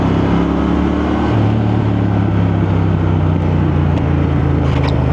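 A Triumph Thruxton 1200cc motorcycle riding along a road in second gear, its steady engine drone loud and continuous throughout with a shifting low rumble.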